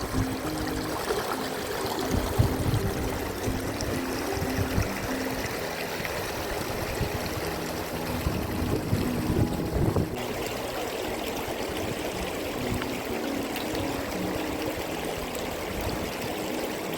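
A small mountain torrent in Valais rushes and gurgles without pause, a dense, close wash of flowing water that stays loud and even from start to finish.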